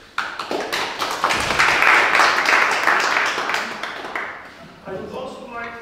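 Audience applause at an academic literature conference, rising from scattered claps to a fuller burst then tapering, with someone speaking near the end.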